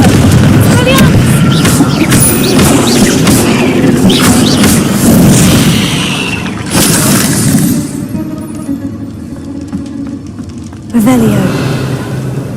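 Spell blasts cast in Hogwarts Legacy, including Confringo, crackling and booming in a rapid run of magical impacts with glassy shattering edges, loud throughout, a quieter gap near the end before another burst.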